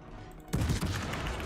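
In World of Warships, the Schill's warship guns fire a salvo: a sudden heavy boom breaks in after a quiet moment, then a rumbling roll that lingers to the end.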